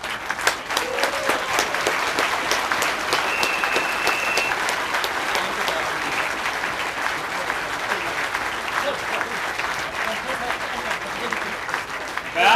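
Crowd at an AfD political demonstration in Hamburg applauding steadily for over twelve seconds, dense sustained clapping from many hands with a brief whistle early on and murmuring voices underneath.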